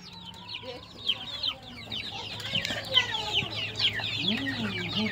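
Tiger chickens and their chicks at a poultry farm, with soft clucking from the hens under a steady chorus of high chick peeps, close and busy throughout.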